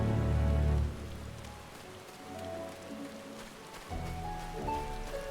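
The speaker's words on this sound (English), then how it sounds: "The place is quite lovely when it's raining." Steady rain in the video game Final Fantasy XIV falls throughout, a soft continuous patter with a low rumbling swell at the start and some faint tonal background sounds.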